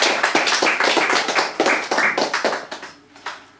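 A small audience at a poetry reading claps, a burst of close hand claps that thins out and fades to a few scattered claps by the end.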